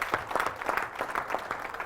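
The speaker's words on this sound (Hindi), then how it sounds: "इनके लिए जोरदार तालियां और मुबारक" A seated audience at a Hindi business event applauds, a fairly quiet, steady spatter of individual claps from a modest crowd, fairly brief.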